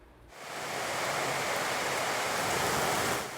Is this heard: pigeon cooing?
no